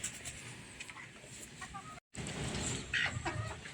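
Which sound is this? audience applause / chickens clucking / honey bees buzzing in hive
chickens clucking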